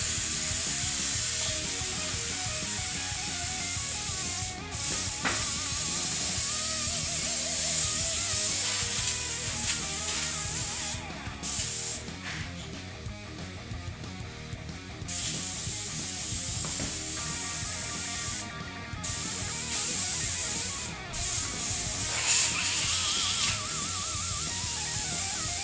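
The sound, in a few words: airbrush spraying while being cleaned out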